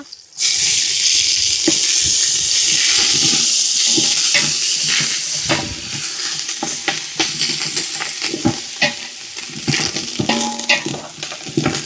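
Onions fry in hot oil for goat biryani, giving a loud, steady sizzle with repeated stirring scrapes and clinks of a spoon against the pan.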